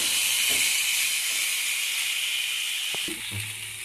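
Vegetables lightly frying in oil with ginger paste and five whole spices for Bengali sukto, a continuous close sizzle and hiss with a few soft knocks near the end.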